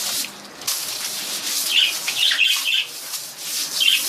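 Water is swept down across a balcony floor during cleaning, making close, uneven broom scrubs and wet swishes in short repeated strokes, with faint bird chirps in the background.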